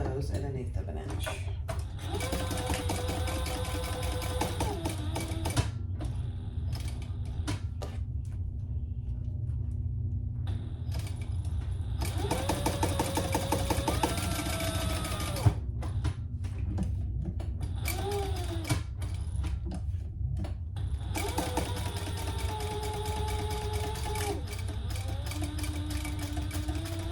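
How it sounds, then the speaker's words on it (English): A sewing machine stitches the 1/8-inch seams of a small crossbody bag in several short motor bursts, each a steady whir, with quiet gaps and soft handling noises between them. "Now we're going to sew those at 1/8 of an inch."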